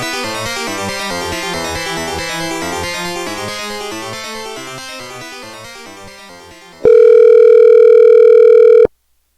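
A landline telephone dials a number with a fast run of touch-tone beeps that gradually fade, then a loud steady tone holds for about two seconds before cutting off abruptly to silence.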